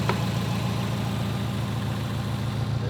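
A built Subaru WRX STI engine idles steadily right after its first startup, a close, continuous low rumble with a faint tick at the very start and no talking.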